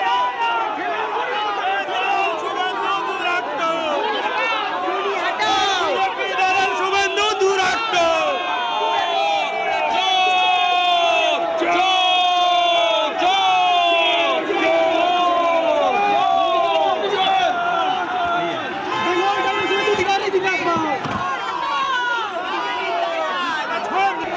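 A dense political crowd pressing around a leader chants a slogan in loud, continuous unison, voices overlapping with shouts and cheers throughout, close and sustained.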